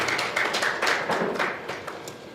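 Audience applause for Ambassador Webson at a diplomatic conference session: a short burst of steady, moderately loud clapping from a crowd that thins out toward the end.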